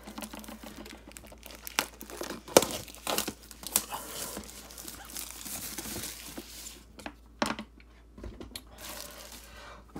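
Scissors cut open the plastic wrapper on a Pokémon Sword & Shield Chilling Reign Elite Trainer Box. Close, irregular crinkling, snipping and tearing comes in bursts with quiet pauses, and no one speaks.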